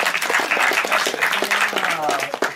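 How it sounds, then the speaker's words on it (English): A crowd claps and cheers steadily, dense applause filling the space with a few voices calling out over it. "Applause!"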